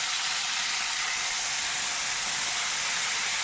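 Chicken pieces sear in a hot pan on high flame, giving a steady, loud, bright sizzle with no pauses and no talking.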